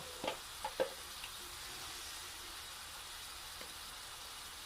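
Spices (salt, dry chilli powder, turmeric and cumin powder) fry and get stirred in a pan, giving a faint, even sizzle with a few light clinks of the spoon near the start.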